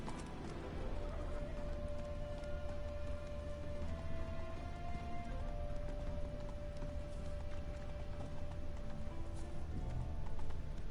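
Roach the horse in The Witcher game trotting with a steady run of hoofbeats, moderately close and continuous, mixed with ambient game sound and a faint sustained tone, no talk.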